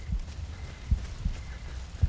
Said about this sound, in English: Feel a heartbeat going on.